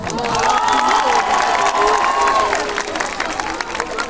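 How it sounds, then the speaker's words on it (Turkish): A large outdoor concert crowd in Yalova applauds and cheers, a roaring mix of clapping, shouts and whistles with voices ringing out over the sustained din. "Şimdi buradan bir sevgi alkışı gönderiyoruz İstanbul'a."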